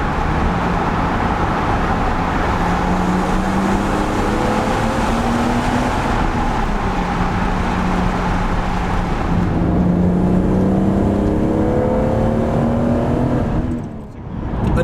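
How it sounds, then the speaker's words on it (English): BMW Z3M Coupe engine echoing inside a long tunnel, a loud, sustained, booming drone that climbs and shifts pitch through the gears, with reverberant roar filling the whole stretch before a brief dip near the end. "a perfect opportunity to hear how this lovely engine sounds"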